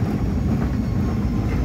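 Airliner taxiing at La Aurora airport in Guatemala, heard as a steady, continuous low engine rumble that stays even and close throughout, with no talk over it.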